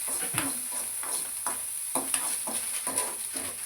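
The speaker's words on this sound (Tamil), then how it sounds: "ஒரு பேனில் வந்து எண்ணெய் ஊற்றி ஆனியன் போட்டாச்சு." Onions frying in oil in a pan while an egg Maggie is being made, with a steady soft sizzle and a few louder stirring scrapes at intervals, no talk.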